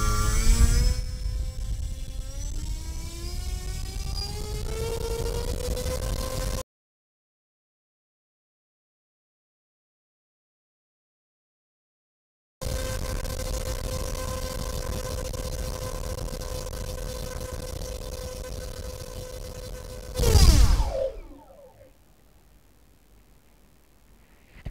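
Small electric motor on an FPV wing spinning a stock 8x5 propeller on a thrust test stand, a steady loud buzzing whine that rises in pitch, cuts out, resumes at a sustained high pitch, then spools down abruptly to quiet.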